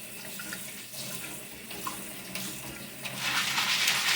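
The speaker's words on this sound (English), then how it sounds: "you can kind of see when you rinse them in the sink if there's any sand coming out" Dry beans rinsed in a kitchen sink under a running faucet, a steady hiss of water that grows louder and brighter toward the end, with no talking.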